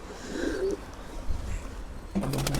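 Pigeons cooing in a loft, a few soft low coos near the start and a louder rolling coo at the end, with quiet background between.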